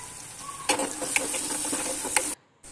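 Onion is sautéed with turmeric in a pan, a steady hiss of frying with soft stirring scrapes and a few sharper taps, close by, then cutting out abruptly near the end.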